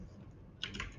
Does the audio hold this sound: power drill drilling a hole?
no